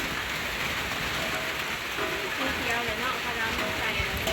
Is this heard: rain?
yes